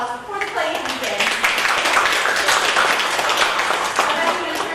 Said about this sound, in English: Let's give them a round of applause before the play even begins.